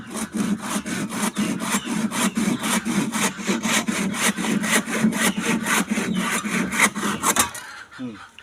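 A hand saw cuts through wood at a construction site, with steady, rapid back-and-forth strokes that run loud and close for about seven seconds before stopping abruptly.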